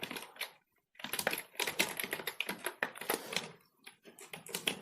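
Someone types C code on a computer keyboard, close and crisp, the keys clattering in quick, irregular bursts with a short pause near the start.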